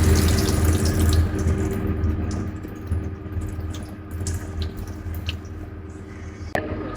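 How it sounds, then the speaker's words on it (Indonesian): Running tap water pours over a hand being rinsed after a chemical spill, a steady close splashing stream with small squishy movements and a brief sharp knock near the end. "kita bilas kembali menggunakan air mengalir"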